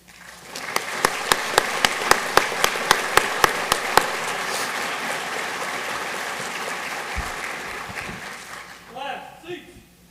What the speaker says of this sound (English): Please join me in a round of applause for the families of these cadets.